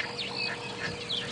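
A bird gives harsh, duck-like nasal calls close by during an early-morning safari game drive, with two rasping squawks standing out over soft outdoor background noise.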